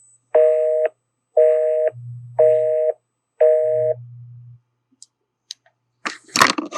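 Telephone tones ring out after a call to an out-of-service number: four loud, evenly spaced rising tone bursts, two answered by a low hum, then a few clicks and crackling handling noise.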